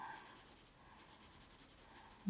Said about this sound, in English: We'll put a little bit of shading on the side here to hide that pencil line.